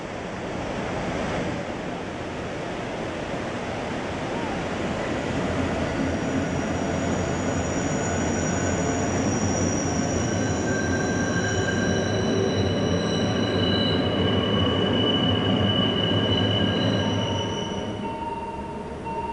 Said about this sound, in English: The train snakes between the houses of San Antonio